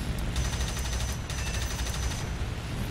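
Guns of a La-5 fighter fire in a short burst during a flight combat game, a dense rattling volley under the steady roar of the engine, pausing briefly before resuming.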